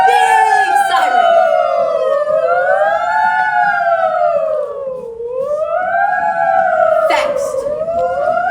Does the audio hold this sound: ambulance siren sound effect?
yes